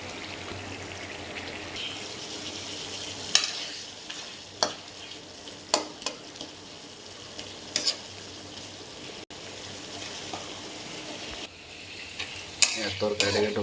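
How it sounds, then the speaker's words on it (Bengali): Curry being stirred and fried in a pan, with a steady broadband sizzle running throughout and intermittent scraping clinks of the spoon against the pan, no talking. "তরকারিটাকে একটু ভালো করে কষে নিতে হবে"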